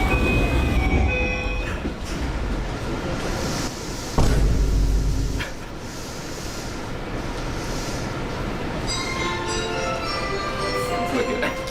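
Ride inside a Japanese passenger train, a steady rumbling roll with rail clatter throughout, a louder low surge for about a second midway, faint background voices in the carriage.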